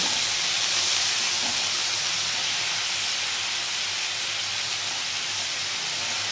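Onion and garlic paste fries in a pan with a loud, dense, continuous hissing sizzle that holds steady throughout, with no voices.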